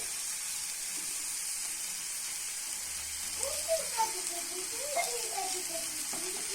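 Spice masala for a mushroom curry sautés in a pan with a steady, soft hiss. A person speaks over it partway through.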